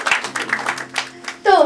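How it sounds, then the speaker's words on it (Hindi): A small audience at a spoken-word poetry performance claps in short bursts, a few scattered hands at first and then a louder swell of applause near the end, with a voice speaking between the claps. "ताली बजा देते चलो"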